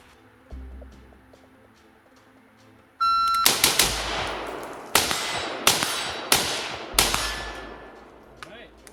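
Rifle shots from a PSA 16-inch Classic M4 upper ring out outdoors, several loud sharp cracks in an irregular string with brief reverberant tails.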